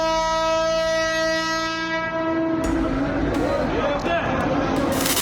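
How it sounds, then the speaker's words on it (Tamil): A locomotive horn blares loudly in one long, held blast as a train bears down on a railway track, then gives way to the heavy rumble and clatter of the train passing close by. "வாம் என்று ஹாரன் அடித்துள்ளார்."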